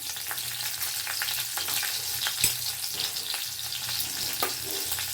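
Chili and black cumin seeds fry in a spoonful of mustard oil in a wok, a soft continuous sizzle with a few sharp crackles and pops and occasional stirring scrapes, close and without talk.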